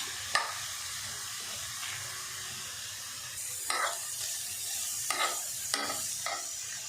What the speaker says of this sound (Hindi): हल्की आंच पे हमने 2 से 3 मिनट प्याज और अदरक को भून लिया।